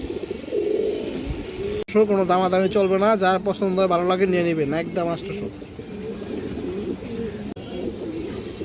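A male red chulli pigeon gives low rolling coos at a pigeon sale, clear at the start and end, while someone talks loudly over the middle.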